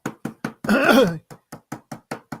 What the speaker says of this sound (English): That's a knock at the cabin right there for you.